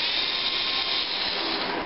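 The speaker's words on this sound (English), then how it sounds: "a Dremel tool with a sanding bit on the end of it" Dremel rotary tool with a sanding bit grinding down a metal spring connector, a steady, close, high whirring abrasive hiss that holds constant throughout.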